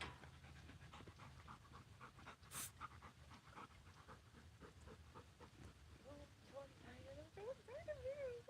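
A dog pants faintly and rhythmically outdoors on a rural acreage, with soft voices and background noise around it.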